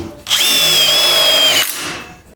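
A power drill drives a metal screw into a pocket door frame post, one loud close whine lasting just over a second before winding down.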